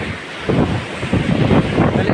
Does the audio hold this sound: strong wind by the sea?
yes